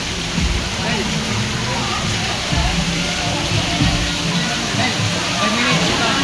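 Splashing and sloshing water fill the scene as people jump into the sea at Subic, a steady wash of water noise with voices calling nearby.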